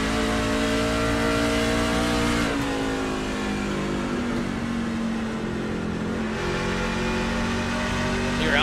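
Race trucks roar steadily around an Iowa oval during an NTRL DEP Graphics Truck Series race, a continuous loud engine drone with pitch shifting as they pass, no talking.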